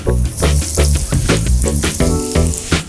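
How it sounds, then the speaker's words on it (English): Breaded potato bonbons frying in hot oil, a loud, close, bubbling sizzle with rhythmic crackling bursts throughout. "now it's time to fry them"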